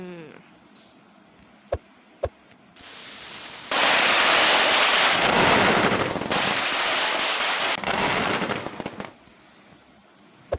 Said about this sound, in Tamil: நல்லா இருக்குது சரவடி.